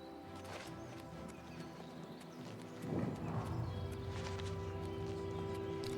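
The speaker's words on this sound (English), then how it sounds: "God, I could just steal that horse." Horse hooves in Oblivion Remastered: a steady rhythmic clip-clop of galloping over ambient game music and a low hum, moderately close, with a heavier thud partway through.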